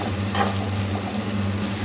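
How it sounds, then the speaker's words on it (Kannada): Vegetables sautéing in plenty of oil in a pan for without-onion upma, a steady close sizzle with a brief stirring scrape, over a low hum. "ಇದನ್ನು ನಾನು ಫುಲ್ ಎಣ್ಣೆಯಲ್ಲೇ ಚೆನ್ನಾಗಿ ಬಾಡಿಸ್ಕೊತಿದ್ದೀನಿ"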